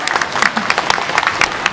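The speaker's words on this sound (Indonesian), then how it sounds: "Ya, tepuk tangan dulu dong." An audience bursts into applause, a dense wash of many hands clapping at once, loud and continuous with a crowd murmur underneath.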